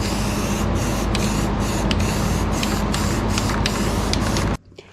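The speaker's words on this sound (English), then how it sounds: "it's probably a good idea to go ahead and spray the bottom side of our frame too" Rust reformer spray paint hisses in one steady, close burst onto the underside of a vehicle frame, then cuts off abruptly just before the end.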